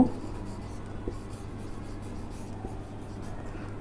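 Chalk or marker scratching out a chemistry equation on a board in short faint strokes, steady and close, over a low constant background hum, with no voices.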